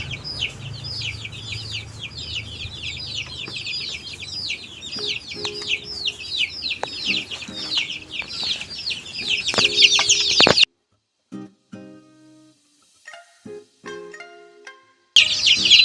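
Dense, continuous high-pitched peeping of many roughly three-week-old meat chickens, close and loud, briefly dropping away before the chorus resumes.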